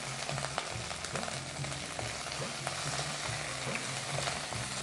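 Thinly chopped onions fry and are stirred in a pan, giving a steady, fairly quiet sizzle with soft scraping, and no voices.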